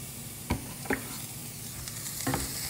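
Onion and tomato sizzle softly in a pan while a utensil stirs them, giving a few sharp scraping clacks over a steady frying hiss.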